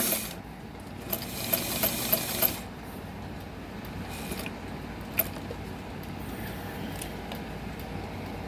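A vintage White zig zag sewing machine runs, a steady mechanical hum and whir with a burst of faster stitching at the start and occasional sharp clicks, no talk.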